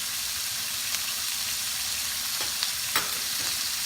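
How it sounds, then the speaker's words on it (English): Butter sizzles in a hot pan with salmon belly, a steady close frying hiss broken by a few sharp pops and crackles, with no talking. "Let's add a little of butter here."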